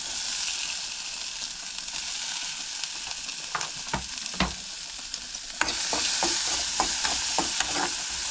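Green chillies and onion sauté in a little oil, a steady close sizzle punctuated by repeated sharp scrapes and taps of a spatula against the pan.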